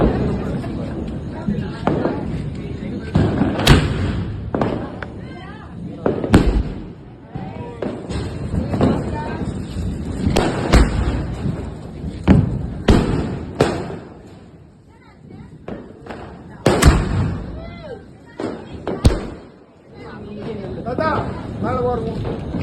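Diwali firecrackers go off outdoors, with a series of sharp, loud bangs spread irregularly across the stretch and people chattering and calling out between the bursts.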